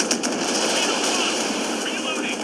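Warship missile and gun fire in the naval combat game Force of Warships, a loud, dense, continuous barrage of rapid shots and blasts with no letup.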